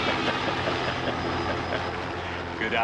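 A helicopter flies during a James Bond film action scene, its engine drone steady and loud, with speech over the top.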